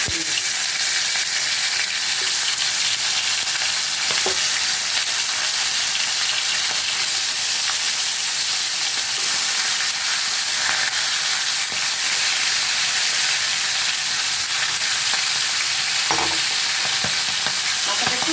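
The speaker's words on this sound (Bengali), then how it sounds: "তেলটা গরম দিয়ে মাথাটা ভেজে নেব" A fish head frying in hot oil gives a loud, dense, continuous sizzle that stays steady throughout, close up, with a few faint clinks of handling and no talk.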